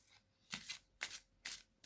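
Oracle cards are shuffled and drawn by hand, three quick crisp riffling bursts close up in a quiet room.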